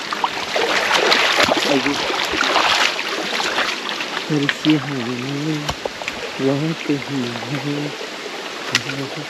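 Steady rain hisses throughout, a dense rushing wash of water noise, while someone talks over it in bursts.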